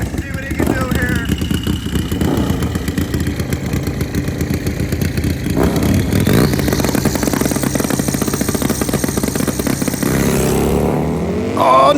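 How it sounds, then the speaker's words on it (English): A street-tire turbocharged Harley bagger motorcycle launches at a drag race, its engine droning loudly and steadily, then climbing in pitch as it accelerates away. "Street tire turbo bagger."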